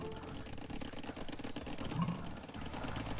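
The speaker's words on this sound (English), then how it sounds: "court stenographer on a keyboard." Rapid, dense clatter of fast keyboard typing in the manner of a court stenographer, a steady busy stream of small clicks running throughout at moderate level.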